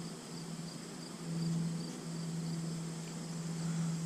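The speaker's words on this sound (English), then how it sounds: "They definitely start chirping when I catch them." Honeybees at an open hive being handled give off a sustained droning buzz with a steady tonal hum, swelling slightly partway through and holding close and continuous.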